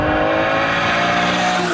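A Lamborghini Miura P400 engine pulls through the gears, a loud, steady, rising mechanical howl with tonal harmonics heard close and alone throughout the short burst.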